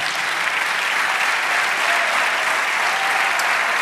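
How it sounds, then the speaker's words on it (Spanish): Dense, sustained applause from a church congregation continues without a break during a Spanish-language sermon, loud and even throughout. "Dale un aplauso al Señor."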